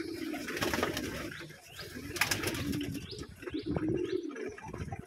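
About a hundred pairs of pigeons at a pigeon farm in Keshabpur, Jessore busy themselves at their feed, with soft cooing, scattered chirps and repeated bursts of wing flapping close by. No one speaks.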